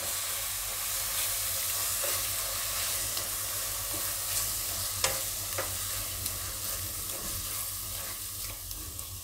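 Cauliflower curry stirred in a pan over a constant soft sizzle and faint steam hiss, with light spoon scrapes and taps scattered through, close by and with no voices.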